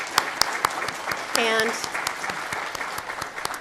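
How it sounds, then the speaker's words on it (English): Applause from an audience at a regional housing summit meeting, with scattered claps and a short burst of voice in the middle, moderately loud and close. "So I just want to give them quickly a round of applause."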